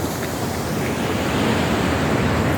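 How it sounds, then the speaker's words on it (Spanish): Ocean surf at the seafront of the Malecón, a dense continuous wash of waves with wind rushing across the microphone, loud and unbroken. "aquí estamos en el océano, en la puntilla de Malecón"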